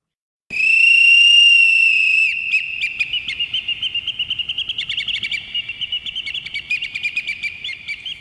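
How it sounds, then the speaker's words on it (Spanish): An ancient Peruvian whistling vessel is played, giving one long, pure, steady whistle tone followed by a rapid series of fluttering, chirp-like pulses, close and clear with no talking. "Esta vasija silbadora del antiguo Perú"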